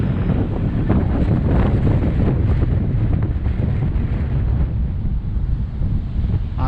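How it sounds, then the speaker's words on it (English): Hurricane-force wind from Hurricane Dorian roars around a small Ryze Tello drone in flight, a loud, constant, buffeting rush that overwhelms the microphone throughout. "He's still flying in a hurricane wind."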